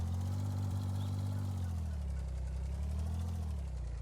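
A tractor engine idles steadily in Farming Simulator 19, a continuous low rumbling drone with a faint mechanical rattle, unbroken and close.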